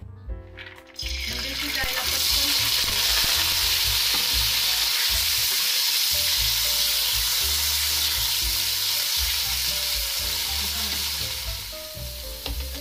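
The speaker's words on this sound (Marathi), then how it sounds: "आता आपण हा पावटा तेलामध्ये छान असा भाजून घेणार आहोत।" Pavta beans fry in hot oil in a kadhai, a loud continuous sizzle that swells after a brief start and holds steady, with occasional stirring scrapes underneath.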